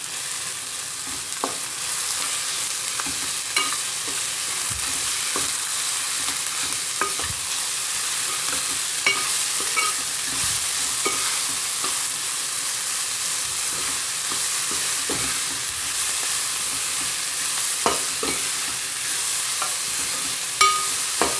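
A dry beans curry seasoned with salt, chili paste and coriander powder is stirred in a pan, a constant gentle sizzle broken by scattered spoon scrapes and taps, close and unhurried, with no voices.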